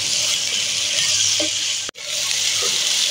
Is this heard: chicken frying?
yes